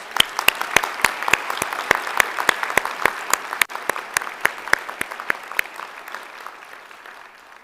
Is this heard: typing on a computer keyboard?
no